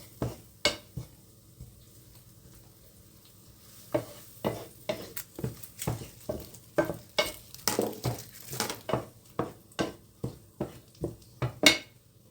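Chicken and mushrooms stirred in sizzling butter in a pan, a close, steady run of utensil scrapes and clinks against the pan over a soft frying hiss, with no voices.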